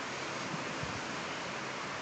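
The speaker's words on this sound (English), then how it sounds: "Some prop splash action there." A propeller aircraft ploughs through standing water on a wet airport runway, making a continuous loud rushing spray with a few faint low thumps underneath.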